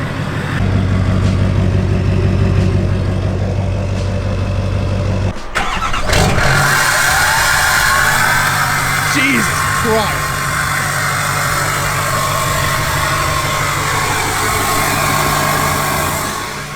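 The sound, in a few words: diesel truck engine revving with turbo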